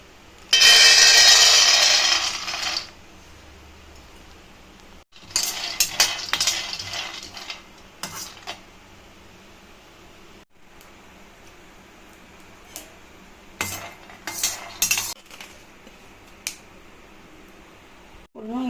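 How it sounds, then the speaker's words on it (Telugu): Peanuts roasting in a pan on a stove, with bursts of rattling, clinking stirring and the scrape of a utensil separated by quieter pauses, close and fairly loud. "స్టవ్ ఆన్ చేసి పల్లీలు వేయించుకున్నాము"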